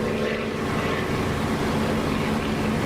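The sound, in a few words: double flyby of aircraft in the DCS video game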